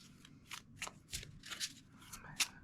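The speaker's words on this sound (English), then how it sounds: "we shuffle our deck, which we're doing" A deck of Lorcana cards being shuffled, soft papery riffles and flicks in short repeated bursts, close and quiet.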